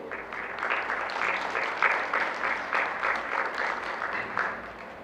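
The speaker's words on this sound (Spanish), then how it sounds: "Les damos la bienvenida con un fuerte aplauso, por favor" Applause welcoming a speaker at a disability committee event, a steady, fairly close round of many hands clapping with slight rhythmic surges throughout.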